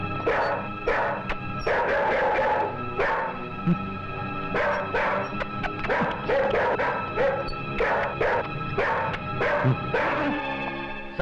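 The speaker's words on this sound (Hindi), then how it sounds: "वो कुत्ता बच्चे के पास बैठा है, हम दोनों को काट कर फेंक डालेगा।" A dog sitting near a baby barks repeatedly in loud, close bursts, with yips and whimpers between the barks in an indoor film scene.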